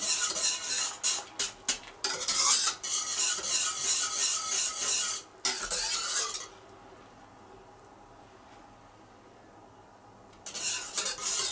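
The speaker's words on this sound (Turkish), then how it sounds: "Şimdi güzelce karıştıralım." Spoon stirring mushroom soup in a pot on the stove, a close, continuous scraping and rubbing against the pot with brief rhythmic strokes, pausing for a few seconds before resuming.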